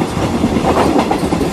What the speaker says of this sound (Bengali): ট্রেন আগের মতোই প্রচণ্ড গতিতে ছুটে চলেছে